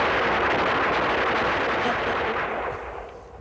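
A dense volley of gunfire from the sci-fi film Stranded in Space roars continuously as one loud, rattling burst, then tapers off toward the end.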